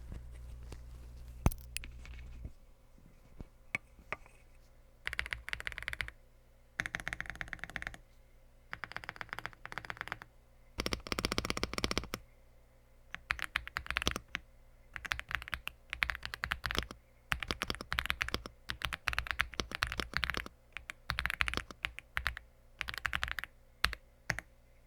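Typing on an AULA F75 mechanical keyboard, with bursts of crisp, close key clacks separated by brief pauses and no voices.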